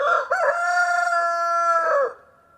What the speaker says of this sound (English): The rooster crowed for the third time.